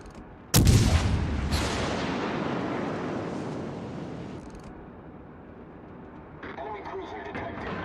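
Naval artillery fire in the video game World of Warships Legends: a sudden loud heavy boom with a second blast just after, then a long rumbling decay and some softer game sounds.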